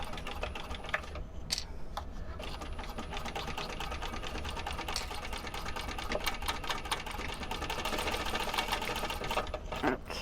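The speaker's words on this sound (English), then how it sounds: "So now we're going to sew this on with a 1/4 inch seam allowance." A sewing machine stitches a quarter-inch seam at a 3.5 stitch length with a steady, rapid mechanical whir and needle clatter running continuously and up close, with a few faint clicks along the way.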